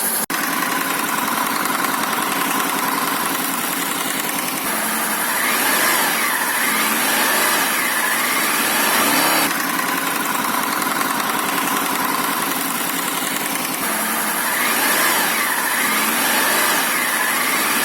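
Honda VFR800 VTEC motorcycle engine idling with a knock in the cylinder head, a steady close mechanical drone with a faint repetitive ticking running through it, continuous and even throughout.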